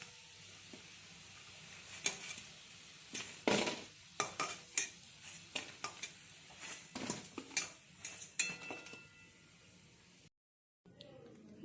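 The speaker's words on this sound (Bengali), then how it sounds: "দেখুন বড়া খুব ভালোভাবে ভাজা হয়ে গেছে।" Lentil fritters (motor dal bora) frying in a pan and being stirred, heard as a steady sizzle broken by a string of sharp metallic scrapes and clinks of a utensil against the pan, close up, with no talk.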